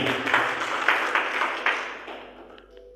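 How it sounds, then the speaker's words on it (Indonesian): A church congregation at an Easter service claps in a short burst of applause that swells and then fades out over a few seconds, heard from within the room. "Tepuk tangan bagi Tuhan."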